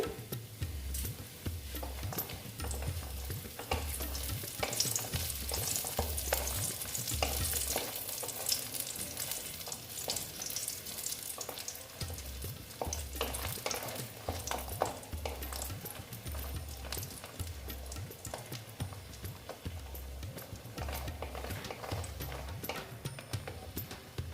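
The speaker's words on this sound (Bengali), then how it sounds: "দেখো বড়িটা ভেজে নিচ্ছে" Sun-dried lentil dumplings (bori) fry in hot oil in a Bengali kitchen, a steady, close crackling sizzle with intermittent stirring scrapes running throughout, no voices.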